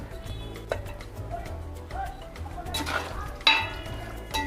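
Paneer is added to a vegetable biryani mixture and stirred in a pan, giving soft scraping strokes and light clinks over a low, steady sizzle, close and moderate in level, with faint voices in the background.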